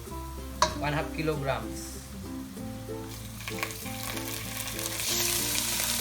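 Ground pork sizzles and fries in a pan with golden-browned onion, a steady crackle with a few sharp clinks of utensil on pan while a person talks briefly over it.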